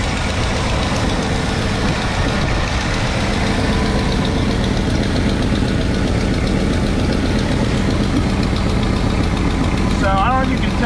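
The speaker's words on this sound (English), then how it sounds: "and then I guess it had an exhaust leak." A 1975 Ford F100 Supercab's engine idles loud and close with a continuous rough drone, an exhaust leak adding a raspy edge after a year sitting, with a brief faint voice near the end.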